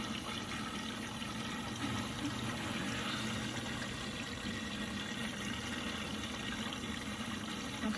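Water flows steadily into a plumbing line during a leak test, a constant rushing hiss with no breaks, moderately loud and close, with no talk over it.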